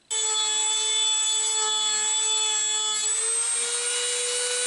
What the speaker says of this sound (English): We've used our Dremel and we've worked almost down to the bottom of this breakout here